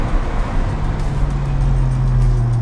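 Turbocharged engine of an Alfa Romeo 4C Spider Italia Edition pulling hard under acceleration, a loud, steady low drone from inside the car that rises slightly in pitch, with no voices over it.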